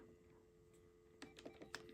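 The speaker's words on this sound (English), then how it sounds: "Keytones do sound through the earpiece." Keypad tones from an RCA 25424RE1-A cordless phone, heard through the earpiece: after a quiet stretch with a faint steady hum, a quick run of short beeps sounds close and moderately loud.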